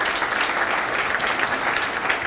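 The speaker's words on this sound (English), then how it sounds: "So I wanted to applaud Vicin one more time for his fine work" Steady applause from an audience at an event in Japan, a dense, even patter of many hands clapping throughout.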